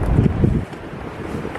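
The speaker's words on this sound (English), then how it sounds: "it's got the wind's picked up a bit" Wind gusts outdoors during magnet fishing, a loud buffeting rush against the microphone for the first half second that then eases to a lower steady blow.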